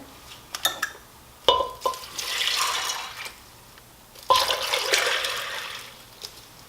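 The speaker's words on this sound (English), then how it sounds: "I then place the beans in the crock-pot, add the 4 cups of water" Water is poured from a cup into a crock-pot holding dried beans in two separate gushing pours, each preceded by light clinks and knocks, at close range with no talking.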